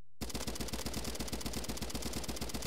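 Rapid automatic gunfire from a weapon in the shooter game Bad Business, a steady fast stream of sharp evenly spaced shots, loud and close, running continuously for the whole burst.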